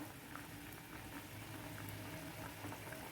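Chhena kofta curry simmering on low heat in a pan, a soft continuous bubbling hiss with faint pops, quiet and steady, no voices.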